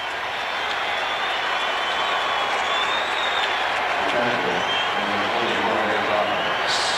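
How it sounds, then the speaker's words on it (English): A large crowd at Shea Stadium during a 2000 Mets–Yankees baseball game roars and applauds steadily throughout, a dense wash of cheering with a voice talking over it. "Listen to this crowd."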